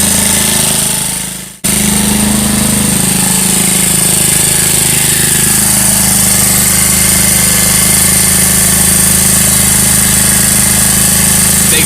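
A 2018 Tao Racer scooter with a 100cc big bore kit, A-9 cam and 64mm rockers runs steadily at a loud, close idle, with a steady buzzing drone and a faint tick. A brief cut comes near the start, and no one speaks.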